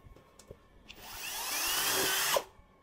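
A Dongcheng DCJZ20160i hammer drill in plain drill mode spins up after a few light taps, whines steadily for over a second, then cuts off abruptly.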